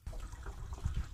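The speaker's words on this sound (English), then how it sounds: "pour the contents into the reservoir here." Diesel exhaust fluid is poured into the DEF reservoir of a Mercedes Sprinter van, giving a soft, close liquid gurgle and trickle that runs briefly and fairly quietly.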